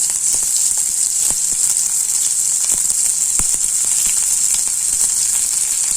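Chopped onion frying in hot oil for a chayote stir-fry gives a steady, loud sizzling hiss with scattered small crackles and pops that run evenly from start to end.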